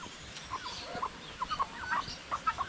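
Backyard chickens and roosters on a Philippine farm cluck in short, scattered calls, a few close and several farther off, with no talk over them.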